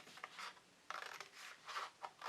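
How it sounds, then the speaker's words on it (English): Scissors cut through the paper cover of a handmade journal in short, close, quiet snips and rasping strokes, with brief pauses between cuts. "And then I'm just going to cut the rest of it out."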